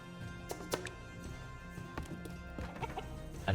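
Chickens clucking at a chicken farm in the city-building game Citadelum, soft repeated clucks and short sharp ticks over a steady game ambience with faint tonal hum.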